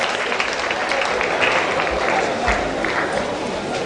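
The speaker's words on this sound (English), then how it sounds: "let's give another round of applause to the two lecturers and the two chairmen of the session" Audience applause at a university session on professionalism, honoring two lecturers and two session chairmen; steady broadband clapping fills the whole stretch, close and even, with a few louder claps near the middle.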